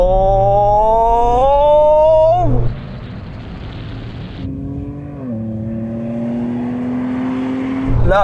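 Toyota Hilux pickup accelerating hard in a drag race against a VW Amarok and a Ford Raptor, loud engines revving up through gear changes with rising pitch and a roaring pass, with no talk.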